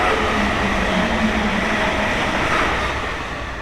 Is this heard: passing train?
yes